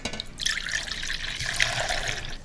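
Chicken broth with bits of garlic is poured from a pot into a measuring cup, giving a steady close liquid splash and trickle that runs the whole time.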